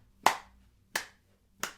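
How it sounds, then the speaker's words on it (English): Three sharp hand claps ring out, evenly spaced in a steady slow beat, close and clear against near silence. "Clap."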